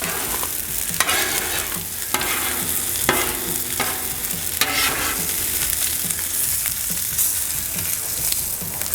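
Food tossed and stirred with spatulas on a Blackstone griddle alongside bacon, sausage links and hash browns: steady close sizzling broken by repeated scraping clacks of metal on the flat top, no talk.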